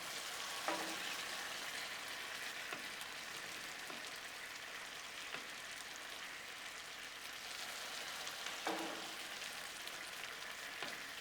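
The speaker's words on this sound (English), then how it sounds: "meatballs are covered in teriyaki and back on the griddle" Teriyaki-coated meatballs sit on a hot griddle and give off a soft, steady sizzle and crackle, with a few faint scrapes and taps over it.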